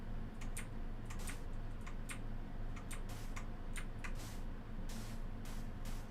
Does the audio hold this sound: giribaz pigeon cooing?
no